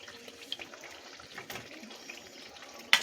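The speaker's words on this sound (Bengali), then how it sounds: "এবার আমি এর মধ্যে দিয়ে দিচ্ছি পনির। জল থেকে ছেঁকে ছেঁকে পনিরগুলো" Strained paneer cubes are dropped into cooking masala amid faint wet splashing and trickling water, a soft, low-level liquid sound with a sharper splash near the end.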